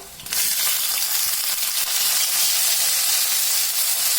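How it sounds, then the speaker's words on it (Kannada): Chopped tomatoes and ginger-garlic paste hit hot oil in a pan for a brinjal gojju, bursting into a loud, steady, close sizzle that continues without pause and with no voices. "ಇದು ಎಣ್ಣೆಯಲ್ಲಿ ಫ್ರೈ ಮಾಡ್ಕೋಬೇಕು."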